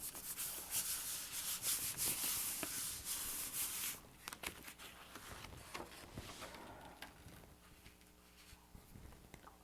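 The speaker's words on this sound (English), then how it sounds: "maybe rub where those halos are" Paper rubbed by hand against a gel printing plate while making botanical prints, a close, continuous hiss of rubbing that turns softer and patchier halfway through, with light taps and handling sounds.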